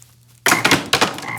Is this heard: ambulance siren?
no